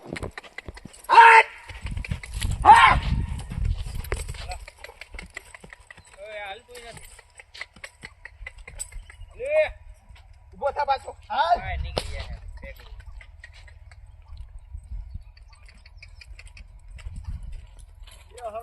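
Horse hooves clip-clop in short bursts near the start and again around the middle, close and fairly loud, with voices talking intermittently around them and some rustling handling noise.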